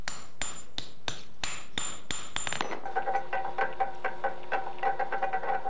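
Hammer blows ring out on the steel side of a small forged knife blade, flattening it: about eight sharp, bright strikes in a steady rhythm, close and loud, followed by a quicker run of lighter metallic taps.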